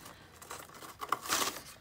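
Plastic packaging for a replacement ribbon cartridge for a Coronet Super 12 vintage typewriter crinkles and crackles close by, a short, quiet burst of rustling with no voice.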